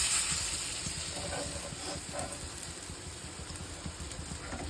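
Potato and drumstick leaf fritters fry in hot oil, giving a soft, steady hiss and bubbling sizzle at low level with faint background noise and no voices.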